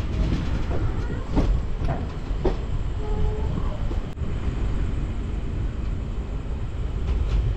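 A train rolls past at night near Dum Dum in Kolkata, heard as a steady, moderately faint rumble with scattered rail clicks and knocks.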